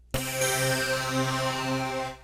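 A Waldorf Blofeld synthesizer preset triggered over MIDI from an Akai Force sounds one bright sustained note with a sharp attack, a rich harmonic tone and a slow fade over about two seconds.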